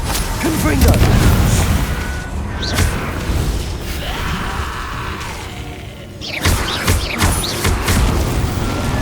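Fiery Confringo spell explosions from the Hogwarts Legacy game on PS5, loud booming bursts near the start and again after a brief lull, with rumbling broadband blasts and a voice-like layer mixed underneath.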